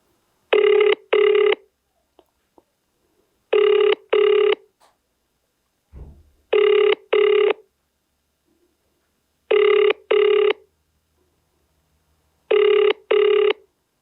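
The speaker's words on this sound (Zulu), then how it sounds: "Sizameni ukumfonela." A telephone rings on an outgoing call, a ringback tone of paired electronic double rings repeating five times at even intervals of about three seconds, clear and close with silence between, no voices.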